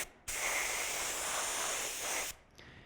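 A spray gun coats a prop Halloween eyeball white with a latex house paint and mask latex mix, one continuous close hiss of about two seconds that starts and stops abruptly.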